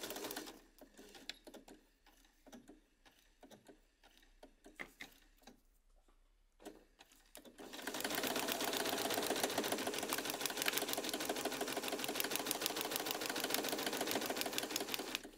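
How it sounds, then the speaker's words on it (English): A sewing machine fitted with a quarter-inch foot sews a quilt block seam. First come faint clicks and handling noises, then a steady, fairly loud, fast mechanical whir runs continuously for the last half. "I'm going to start sewing down this side. I'm using my quarter inch foot."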